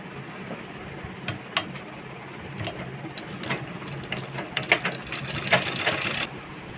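A sewing machine hums steadily while stitching palazzo trousers, with scattered light clicks and ticks over the low motor drone.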